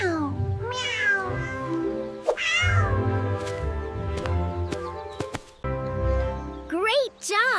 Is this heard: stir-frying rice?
no